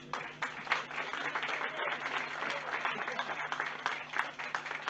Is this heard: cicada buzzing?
no